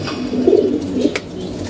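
A pigeon coos softly and briefly, giving a couple of low, throaty notes close by in a quiet setting.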